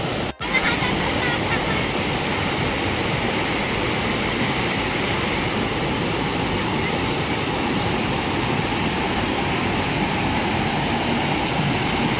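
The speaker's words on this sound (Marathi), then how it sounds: "खालच्या साईडला आहे धबधबा इकडच्या साईडला" Bhivtas waterfall roars in a steady, loud, continuous broadband rush of falling water that stays even for the whole stretch, with no voices over it.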